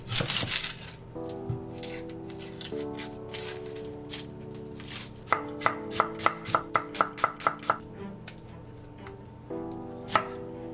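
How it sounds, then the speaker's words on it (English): Knife chopping through half an onion on a cutting board, a steady run of crisp, close, rhythmic cuts with a quicker burst of taps partway through, heard alone with no talking. "I'm peeling and thinly slicing half an onion."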